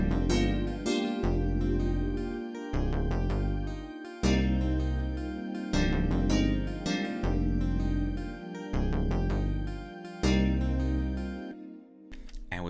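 Amplified clavichord patch plays a short 90s R&B melody, plucked, twangy notes over heavy thumping bass hits in a steady rhythm, loud and alone, fading out at the end.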